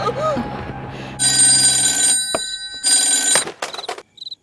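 Telephone rings in bursts in a Telugu movie scene, loud electronic trilling bells separated by short pauses, with brief voice sounds between rings.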